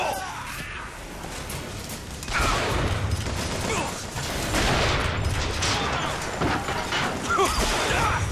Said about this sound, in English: He keeps shooting me, it's so hard to hit people while I'm getting shot at